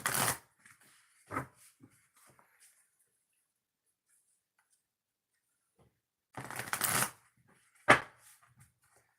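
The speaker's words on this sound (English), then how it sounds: "Now I'm going to shuffle the cards" A deck of oracle cards is shuffled in several short, crisp bursts, a quick riffle at the start, a brief rustle, then a longer shuffle and a sharp snap near the end, separated by silence.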